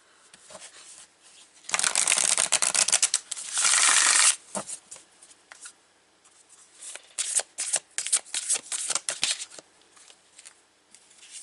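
Tarot cards being shuffled close up in crisp riffling bursts, with two long dense runs followed by shorter, broken flurries of card flicks.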